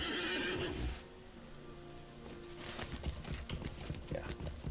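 In a Middle-earth video game, a horse lets out a loud whinny, followed by softer scattered hoof clip-clops and movement sounds at a moderate distance.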